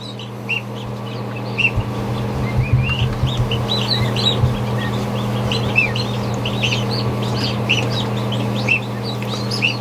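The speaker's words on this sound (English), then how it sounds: "A baby goose." Newly hatched Chinese goose goslings chirp continuously in an incubator, many quick high peeps overlapping close by above a steady mechanical hum.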